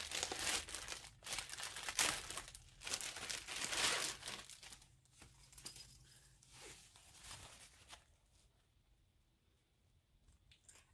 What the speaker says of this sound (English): let's get this out of the plastic bag so we can really get a good look at this